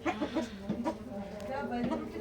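Sonali hybrid chickens and large roosters on a farm, close clucking and short calls mixed through the clip while someone talks over them.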